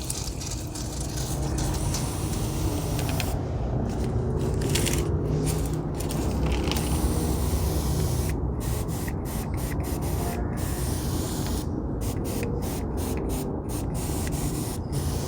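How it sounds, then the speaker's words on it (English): A steady hiss of a pump sprayer misting soapy water onto a crepe myrtle bonsai, running continuously with a few brief pauses near the end. "It's just regular old dish soap and some water, and I give it a spray."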